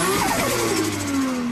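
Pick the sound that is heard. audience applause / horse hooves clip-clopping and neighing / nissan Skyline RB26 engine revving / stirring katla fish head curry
nissan Skyline RB26 engine revving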